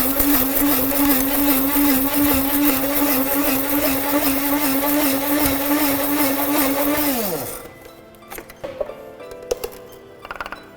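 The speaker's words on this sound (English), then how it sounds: "Next, you wanna grind your coffee." Black & Decker electric coffee grinder whirring loudly as it grinds coffee beans, a steady motor drone for about seven seconds that winds down and stops, followed by faint rattling of the grinder and beans.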